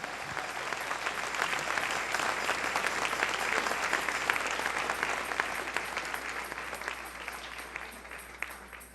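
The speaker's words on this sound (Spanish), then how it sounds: "Dale un aplauso al Rey en esta hermosa noche." Sustained applause from a church congregation, dense clapping that swells and holds for several seconds before gradually thinning out.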